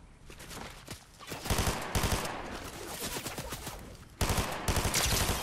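Rapid bursts of gunfire in a Fortnite match during a sniper engagement, sharp cracks in quick clusters with brief pauses between volleys, loud and close with no voices over them.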